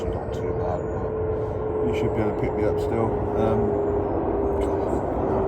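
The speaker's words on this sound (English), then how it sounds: "Excuse the plane." A steady engine drone hums throughout like an aircraft passing, constant and fairly loud beneath someone speaking.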